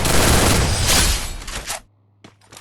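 Rapid bursts of MP40 submachine gun fire in a shooting video game, a loud close rattle of shots for under two seconds that cuts off into near silence with a couple of faint trailing clicks.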